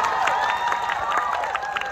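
A crowd at a religious gathering laughs and claps together in a short, lively burst, close and loud, with overlapping voices.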